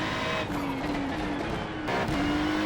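A race car in a racing sim video game overtakes, its engine whining and shifting pitch as it drives past, moderately loud and continuous with no talking.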